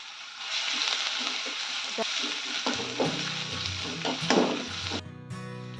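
Onions fry in reused oil in a pan, a bright steady sizzle with stirring clatters that thins toward the end, close up with a voice briefly speaking.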